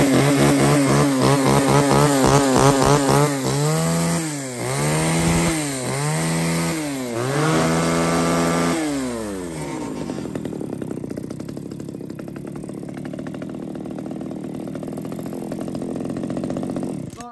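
A Ryobi S29L mini top-handle chainsaw, a light 3.5 kg climbing saw, starts and revs loudly in several surging bursts, then settles into a steady buzzing idle close by for the rest of the span.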